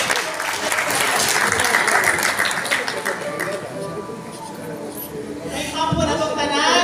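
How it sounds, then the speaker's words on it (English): An audience at a collective bargaining agreement signing ceremony breaks into loud, sustained applause. The clapping dips briefly midway, then swells again near the end with some crowd noise mixed in. "let's give them a warm applause"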